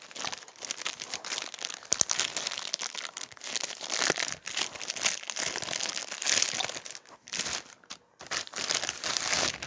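A taped cardboard package of comic books being opened: loud, close crinkling and tearing of tape and packing, in irregular bursts with brief pauses, no talking.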